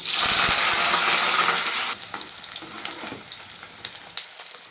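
Onions and green chillies fry in hot oil with a loud, close, hissing sizzle that drops after a couple of seconds into a quieter crackle with scattered pops.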